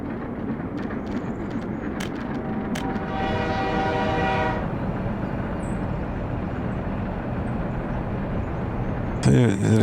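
A video-game freight train with two locomotives pulling a long consist rumbles low and steady, with a tonal horn-like whine rising midway and a few sharp clicks and a burst of noise at the end.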